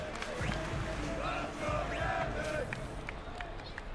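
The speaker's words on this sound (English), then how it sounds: "The crowd chanting for him" Crowd at a Street Fighter 6 tournament chanting and yelling in rhythmic bursts, a dense roar of many voices with some shouts rising above it, moderately loud and continuous.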